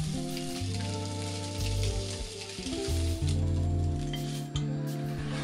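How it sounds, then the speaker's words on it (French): Ham slices and surimi sticks browning in a hot pan, a steady bright sizzle that runs throughout, with occasional clinks and a low hum underneath. "Dorer les tranches de jambon. Ainsi que les bâtonnets de surimi."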